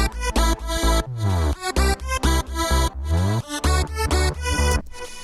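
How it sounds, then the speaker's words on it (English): A bright Sylenth1 synth lead plays a choppy, rhythmic melody in an electronic drop, with sharp stabs and sliding pitch sweeps over a pumping electronic backing, loud and without vocals. "I made this lead with Sylenth 1."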